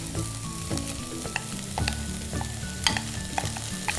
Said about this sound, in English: Now be gentle when you stir this because you don't want to break the pieces of rice.